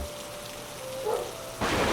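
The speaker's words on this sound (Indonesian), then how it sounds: "Angin menderu dan hujan turun deras." Heavy rain pours steadily through a storm, a dense even hiss that swells louder near the end with no voices.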